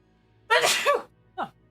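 A person gives one loud, close sneeze with a sharp burst, followed about half a second later by a shorter, softer vocal sound.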